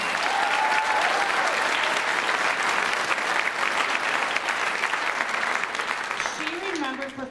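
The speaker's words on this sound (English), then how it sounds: "let's give Julie Hansen an applause" Audience applause fills a choir concert hall, a dense, steady clapping that holds loud throughout and eases slightly near the end, with a brief tone and a faint voice surfacing near the close.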